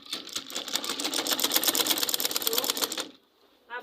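Sewing machine running a straight seam on a gown for about three seconds in a fast, steady stitching rhythm, close and loud, then stopping abruptly with a brief quiet tail.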